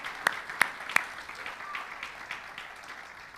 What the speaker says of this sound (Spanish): Démosle palmas al Rey de Reyes